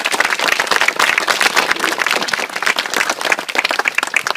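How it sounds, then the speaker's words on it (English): A crowd gathered at a memorial garden in a burial park gives its designers a big round of applause, loud, dense outdoor clapping sustained throughout with no speech. "they deserve a big round of applause"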